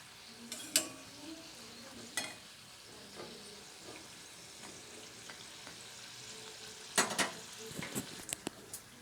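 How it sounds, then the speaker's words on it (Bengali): A homemade snack frying crisp in a pan over lowered heat, a soft continuous sizzle with intermittent scraping and clinks as the pieces are turned, close and fairly quiet. "একটু পাল্টে পুল্টে ভেজে নেবো কড়া করে"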